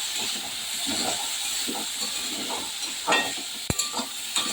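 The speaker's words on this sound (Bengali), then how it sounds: "একটু হলুদ গুঁড়ো একটু নেড়ে দেবো।" Potatoes with turmeric powder frying in a pan while being stirred, a steady sizzle and hiss under repeated scraping strokes, with a sharp clink near the end.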